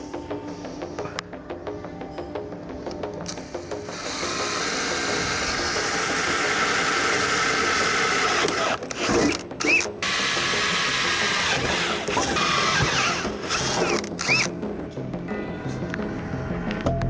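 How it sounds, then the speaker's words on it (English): A power drill bores mounting holes for mud flaps on a diesel pickup truck in a shop, a steady whirring grind lasting many seconds with brief stops and restarts, fairly close. "Oh, we're gonna drill them."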